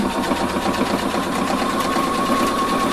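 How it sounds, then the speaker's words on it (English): A sewing machine runs steadily at close range, its rapid needle chatter forming a continuous buzzing hum as it stitches the same seam again on a zipper front with facing. "now I'm just stitching once again"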